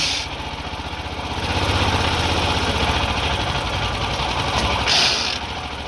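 A dune buggy engine on its first test ride, a loud steady buzzing drone that swells slightly and holds near, rough and mower-like, with no talk over it.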